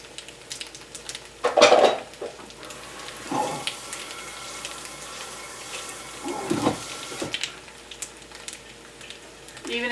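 A spaghetti frittata fries in a pan, giving a steady soft sizzle with a few louder clatters of utensils against the pan, close by.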